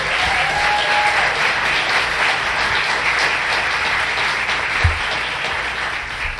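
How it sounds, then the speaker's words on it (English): An audience applauds the mayor at a civic event in Phoenix, Arizona, with dense, sustained clapping from a large crowd that holds steady at an even level throughout. "Let's give our mayor a big round of applause."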